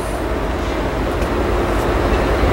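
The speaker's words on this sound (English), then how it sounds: "here comes eastbound southwest chief number 4 approaching Fullerton" Eastbound Southwest Chief passenger train number 4 approaches Fullerton, giving a loud, steady rolling rumble that holds and grows slightly heavier toward the end, with no talking.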